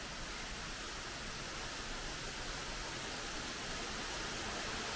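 A waterfall on the Big Island of Hawaii gives a steady, even broadband rush of falling water, constant and moderately distant, with no voices.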